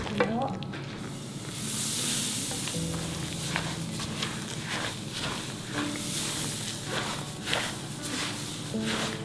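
Nuts go into a syrupy mixture over very low heat and are stirred with repeated scraping strokes against the pan. A light sizzle runs underneath, with occasional soft bursts of hiss.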